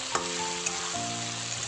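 Previously fried potatoes tipped into a pan for a Bengali fish-head and cabbage dish, crackling and sizzling quietly in the oil for a brief moment, with faint tonal hum in the background.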